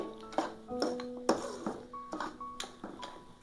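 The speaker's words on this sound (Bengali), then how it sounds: "দেখেন গুড়গুলা গলে যাচ্ছে, এভাবে একটু নাড়াচাড়া করতে হবে।" Melting jaggery is stirred in a pan for an olive pickle, a close series of ringing metallic taps and scrapes of a spoon against the pan at an irregular rhythm, with no talking.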